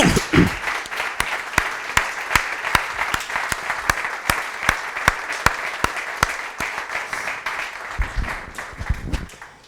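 Sustained audience applause at a Spanish research awards ceremony, honouring two people, a steady dense wash of clapping with a few louder individual claps standing out, continuing for the whole span before thinning toward the end.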